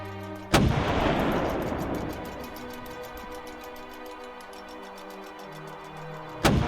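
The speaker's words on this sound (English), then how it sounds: "I hate that cannon." Cannon in a VR video game firing twice, each a loud sudden boom, the first followed by a long decaying rumble, with a steady ticking running between the blasts.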